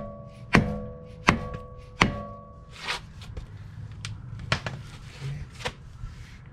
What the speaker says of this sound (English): So I'm going to be hammering this axle in.